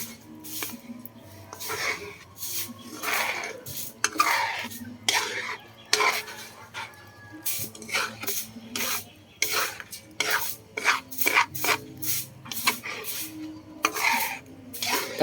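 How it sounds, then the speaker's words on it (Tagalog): Fresh first-press coconut milk is stirred in a metal pot with shrimp paste for ginataang bagoong alamang. Repeated close scraping and swishing spoon strokes sound in an irregular rhythm, with no talking. "haluin natin ng kaunti, pwede rin damihan paghalo"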